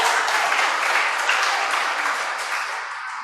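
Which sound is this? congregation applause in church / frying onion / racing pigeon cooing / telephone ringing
congregation applause in church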